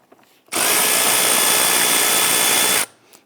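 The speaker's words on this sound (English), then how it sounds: "Using an 8mm socket, we're going to loosen this hose clamp." A power driver spins an 8mm socket to loosen a hose clamp on the air intake box of a 3.6L V6 Dodge Charger, giving one steady, loud, close whir of a bit over two seconds with no talking.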